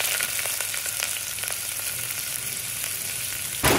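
Mustard seeds, cumin, dried red chillies, curry leaves and onions fry in a tablespoon of oil for a ridge gourd curry, making a dense, even sizzle with light stirring taps and no voices.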